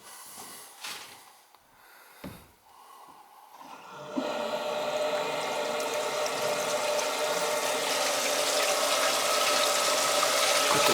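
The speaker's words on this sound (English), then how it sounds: "there's a toilet right there. Go ahead and flush it." A toilet in a house with no stack vent is flushed. The first few seconds are quiet, then a loud rushing surge of water starts and keeps going steadily to the end, close by and with no voices over it.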